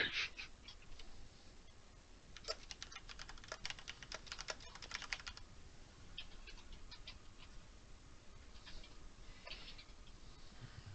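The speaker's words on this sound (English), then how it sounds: "if you can hear me typing, I got a new mechanical keyboard for Christmas" Quiet clicky keystrokes on a mechanical keyboard, bursts of rapid typing with pauses, over a faint steady background hum.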